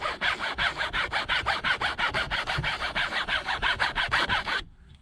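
A bristle brush scrubs a car's cloth headliner in quick, even back-and-forth strokes, about twenty rhythmic rasping passes close up, then stops abruptly.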